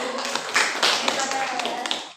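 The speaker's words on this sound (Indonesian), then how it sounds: "Kasih tepuk tangan buat Bagas." A classroom of students clapping for a classmate named Bagas: quick, uneven close-up claps and taps from several children, with voices mixed in.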